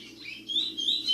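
A curió songbird, a Brazilian finch recovering from its moult, sings high, thin whistled phrases that rise and fall, close and clear over a low background hum.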